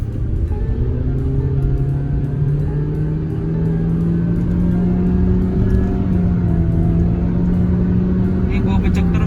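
A 2021 MG ZS Facelift SUV accelerates, its engine drone rising steadily in pitch under a constant loud cabin rumble and road noise, heard from inside the car.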